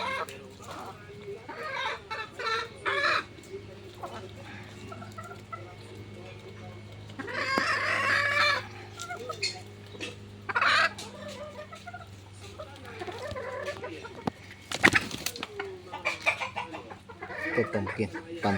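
Knight Norm broodcock rooster on a farm clucking in scattered bursts, with a few louder calls standing out, while someone talks on and off nearby.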